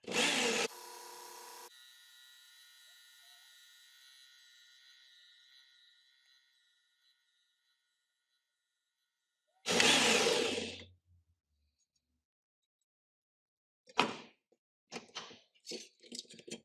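A Work Sharp Ken Onion Edition belt sharpener with a medium grit belt whirs briefly up close, then spins down, followed by a short loud grinding pass of a knife and a few quick, scattered bursts.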